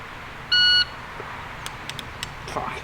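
A shooting-range shot timer gives one loud electronic buzzer tone lasting about a third of a second, followed by faint clicks and rustling handling noise.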